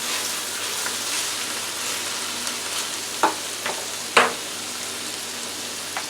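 Mushrooms frying with strips of cube steak in a pan, a steady close sizzle running throughout with a couple of sharper crackles and utensil taps near the end.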